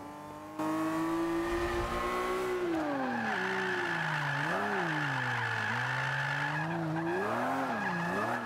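Drifting car engine revving in Forza 5, a loud close roar that surges and dips repeatedly through slides, with screeching tire skids running underneath, continuous after a brief quieter start.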